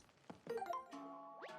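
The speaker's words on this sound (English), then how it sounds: "Makes a sound when a treasure collectible treasure is nearby." Treasure bell chime from Paper Mario: The Origami King, a short bright sequence of tinkling tones ending in a rising sweep, clean and alone at moderate volume.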